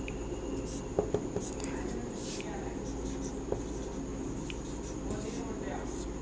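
A hand writes with a pen on paper, giving faint scratchy strokes and a few light taps under a quiet, hushed voice against a low steady room hum.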